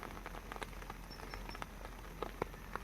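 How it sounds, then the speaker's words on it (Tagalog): Heavy rain falls at night, a dense, constant patter of drops striking an umbrella and surfaces nearby, with scattered sharper hits standing out, fairly soft overall. "lakas-lakas na ng ulan"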